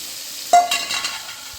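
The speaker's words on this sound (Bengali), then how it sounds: "আলু ও বেগুন আমি ভালো করে ভেজে নিয়েছি।" Potatoes and eggplant in a frying pan: one sharp utensil clatter, a short burst of stirring and sizzle, then a faint low hiss.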